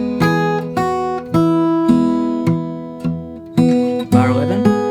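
Bar 10 of Jingle Bells on fingerstyle acoustic guitar, about eight bright plucked notes in an even rhythm with a slightly busier strum near the end, played up close without any talking.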